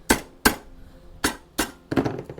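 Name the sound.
hammer hitting golf club part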